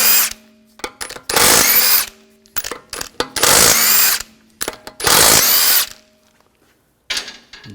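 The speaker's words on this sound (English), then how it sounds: "Using a 17mm socket, take the lug bolts off." A power impact tool with a 17mm socket spins wheel lug bolts off a 2004-2009 Audi A4, several loud separate bursts of whirring and rattling with short quiet gaps and small clicks between them.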